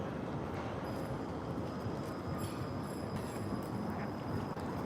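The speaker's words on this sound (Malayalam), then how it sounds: "ഇതാണ് ആ പറഞ്ഞ ട്രെയിൻ കുഞ്ഞു ട്രെയിൻ ഇതാണ് കേട്ടോ" A small train rolls past in Russia, giving a loud, steady broadband rumble with a faint high metallic whine running throughout, close by and without pause.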